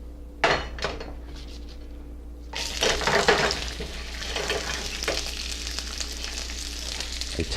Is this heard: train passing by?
no